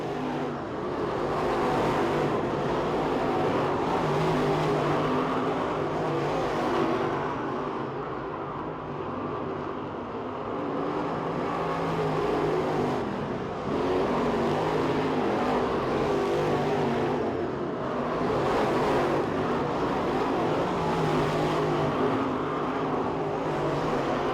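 Race car engines roar steadily, rising and falling as cars pass by on a speedway during Winter Nationals heat races, a continuous loud drone with no talking.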